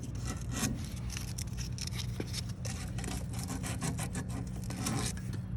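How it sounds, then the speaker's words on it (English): Rapid rhythmic scratching of sandpaper rubbed back and forth over a copper refrigerant pipe before a compressor replacement, a close, steady rasp with no talking. "you're going to sand the pipe, clean it up"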